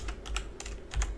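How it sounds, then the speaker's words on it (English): Fingers typing on a computer keyboard, a quick run of close, crisp key clicks in uneven bursts with no voice. "Man, typing's hard."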